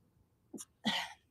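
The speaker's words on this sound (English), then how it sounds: "I'm starting to sneeze and I'm allergic to something in Arizona" A short intake of breath followed by a single sharp sneeze, close and fairly quiet, with silence around it.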